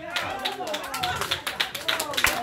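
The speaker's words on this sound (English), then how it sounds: "Somebody clap your hands." A church congregation claps hands in a quick, uneven rhythm of sharp slaps while a preacher's voice carries loudly over the top.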